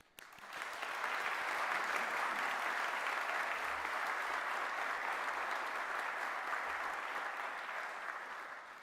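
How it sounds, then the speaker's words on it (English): Graduation audience at a Fife College ceremony applauding steadily, a dense, loud, sustained wash of clapping that rises quickly and holds for several seconds with little voice over it. "So clap, cheer, and celebrate yourselves and the others around you."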